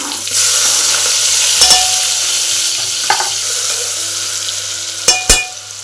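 Cumin, mustard seeds, garlic and tomato hit hot oil in a Maharashtrian village kitchen, giving a steady close sizzle with a few sharp spoon-on-pan clinks and stirring scrapes, no talking.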